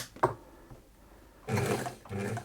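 A 1950s Singer 185K sewing machine comes on with a click, then its motor hums briefly in two short runs, close by and moderately loud with no talk.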